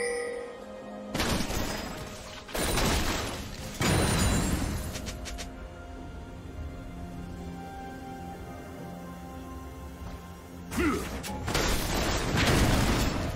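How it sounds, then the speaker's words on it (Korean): An enemy turret is destroyed in League of Legends: loud crashing, crumbling bursts in several waves, with quieter game ambience in between. "빨간 팀의 포탑이 파괴되었습니다."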